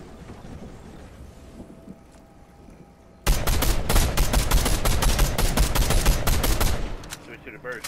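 SMG gunfire in Fortnite solo play bursts in suddenly after a quiet stretch, a loud, rapid automatic stream of shots that runs for about four seconds, with faint talk underneath.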